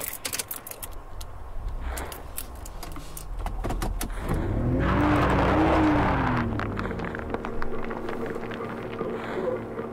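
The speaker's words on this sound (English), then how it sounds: "did I not get in my car and get away?" A car in the Siren Head horror video game starts up and pulls away, its engine swelling into a loud, rising rumble in the middle of the clip amid scattered clicks and thumps, then fading to a lower hum.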